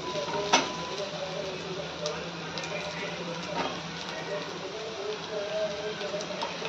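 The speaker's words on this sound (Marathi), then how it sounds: "कांदा थोडा परतला की त्यात घालूयात बटाटा." Potato pieces tipped into onions already frying in a pan for aloo matar poha, giving a steady close sizzle with stirring scrapes and a brief clatter as they go in, under continuous speech.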